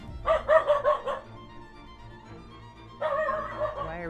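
Dog barking in a video game, a quick run of several yips in the first second and a half, then a brief pause before another stretch of dog sound returns, with game music and effects continuing underneath.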